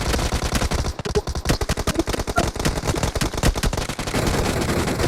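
Rapid automatic gunfire from the mobile battle royale game PUBG Mobile, dense bursts of loud close shots rattling almost continuously with brief gaps.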